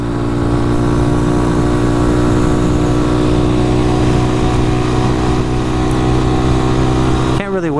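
Honda Grom motorcycle engine while riding: a loud, close, steady droning hum at an even pitch with wind rush, held for several seconds before a brief shift at the end.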